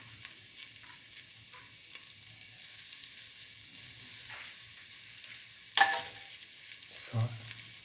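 Garlic fries in a pan while a mung bean and tomato rice dish is prepared, giving a steady faint sizzle with a few sharp clinks and stirring scrapes, and no voices.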